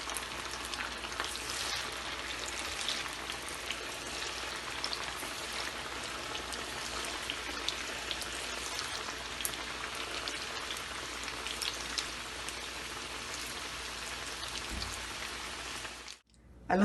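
Noodle pakoras fry in hot oil, giving a continuous crackling sizzle like light rain that carries on steadily before a short thump near the end.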